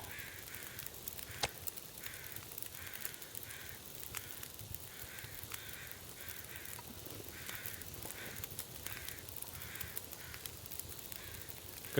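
Crows caw in a repeating series of calls against a steady wintry background hiss in The Long Dark survival game, moderately distant and evenly spaced across the scene.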